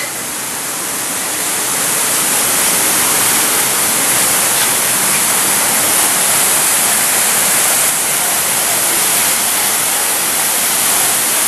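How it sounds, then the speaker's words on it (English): A waterfall at a Disney park roars as a loud, continuous rush of broadband white water, close and unbroken throughout. "Look at the waterfall."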